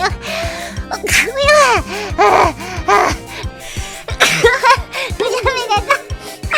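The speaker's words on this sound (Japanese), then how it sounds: "あ、くしゃみでしょ。" A playful, theatrical sneeze voiced by a VTuber, set among excited talk and gasping sounds in a quick run of close, loud vocal bursts.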